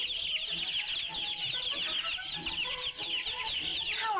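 Chickens cluck steadily, a dense chorus of many hens chattering and calling without a break on what sounds like a farm yard, moderately close, with no talk over them.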